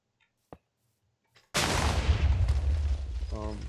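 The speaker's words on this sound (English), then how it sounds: "It will explode, since in real life, when uranium reaches critical mass, it will explode." Uranium detonating at critical mass in a modded video game: a sudden loud, roaring blast that swells and rumbles on for about two seconds, preceded by a couple of faint clicks and followed by a brief buzzing tail.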